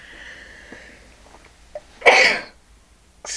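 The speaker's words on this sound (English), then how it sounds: "Oh, I've got to sneeze." A single loud sneeze bursts out after a brief inhale and some quiet sniffing, close to the mic, with another short sharp breath sound right after it.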